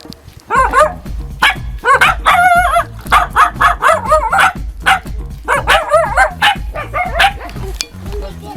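Several dogs bark repeatedly and excitedly at close range in Tanzania, overlapping loud woofs and higher yips mixed with whimpering, continuing throughout.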